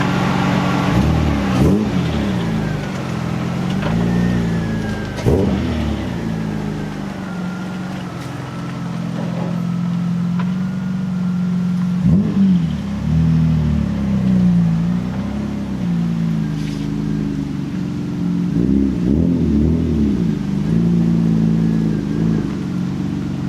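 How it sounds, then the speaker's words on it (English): Hyundai Tiburon car engine revving while the car is moved, several separate rising revs spaced across the clip over a steady idle rumble, close and fairly loud. "Let's move the car."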